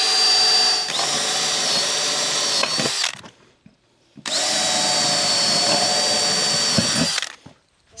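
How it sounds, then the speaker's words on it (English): A power drill with a freshly sharpened bit bores through a stacked pack of steel roofing panels in two long, loud, steady whining runs, each ending abruptly with a brief quiet gap between. "Second pack drilled."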